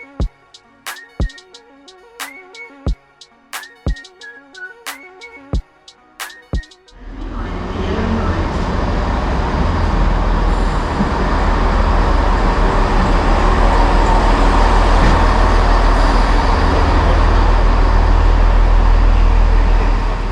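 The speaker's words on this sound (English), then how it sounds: "now we can take a look at the arrival of my train today" At Exeter Central station, a class 166 train arrives: sharp chime-like station tones ring out first, then a loud, steady roar of the train rolling in fills the platform.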